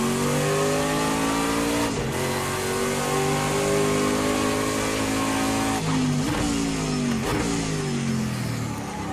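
Prototype race car engine in Project CARS 2 revving loud and continuous, pitch rising and falling through gear changes with brief dips near two and six seconds, no talk over it.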